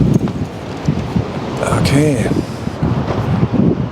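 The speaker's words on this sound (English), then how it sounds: "Oh, there's a lot of wind here." Gusty wind buffets a microphone outdoors beside a street near an old hotel, with a steady roar and rising gusts, while a voice speaks briefly over it.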